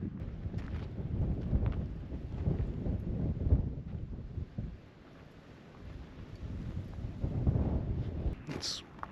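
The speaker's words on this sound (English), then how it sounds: "It's not cold, but it's windy as hell." Strong wind gusts across a microphone in the Sonoran Desert, rumbling and buffeting in surges that swell and ease, loud and close.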